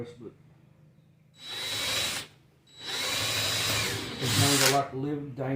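A hand-held power drill with a larger bit bores a hole in a wooden adjustable lip slot jig, whining in three close, loud bursts separated by short pauses.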